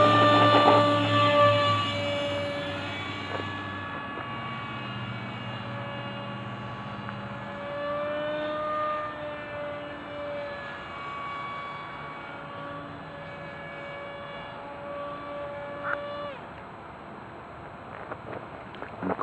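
A remote-controlled glider airplane flies overhead with a steady, thin tonal whine that slowly shifts in pitch. Wind rushes across the microphone throughout, and no one speaks.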